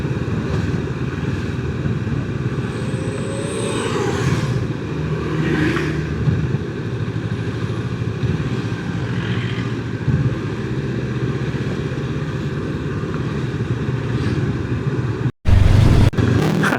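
A car passing another vehicle on a long highway drive toward Banyuwangi, with a steady loud engine and road drone throughout and a brief engine surge midway, close and continuous with no talk.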